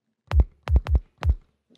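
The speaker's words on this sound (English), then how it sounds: "we're gonna add a sub kick for punch" Sub kick drum for punch beneath a low strings rhythmic motif: four deep, booming thumps, the middle two in quick succession, close and dominant with little else around them.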